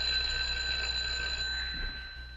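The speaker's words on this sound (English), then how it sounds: "Well, why don't you ring the bell?" A door bell in an old Laurel and Hardy film rings as a steady, bright metallic tone held throughout, sitting over a low hum and fading slightly near the end.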